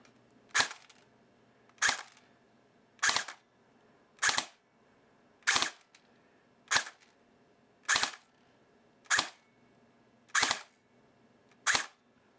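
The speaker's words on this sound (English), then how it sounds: "let's switch back to semi, do a couple shots." A Valken airsoft battle rifle firing single semi-auto shots, ten sharp close cracks spaced evenly about a second apart against a quiet background.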